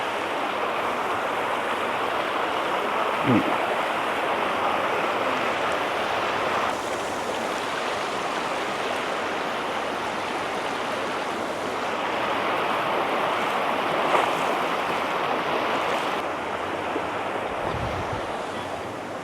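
A river in Tanay, Rizal rushes steadily and continuously, a dense broadband wash of flowing water that holds a constant loud level throughout with no voices.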